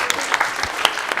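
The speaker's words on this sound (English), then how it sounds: "Let's give our speakers another big round of applause." Brief burst of crowd applause for speakers at a meet-and-greet event, steady clapping from many hands throughout.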